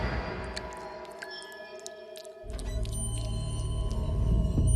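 Screwworm larvae, parasitic fly maggots, moving inside a person's scalp, heard up close as a faint, irregular series of squeaky clicks and creaking chirps over a low hum.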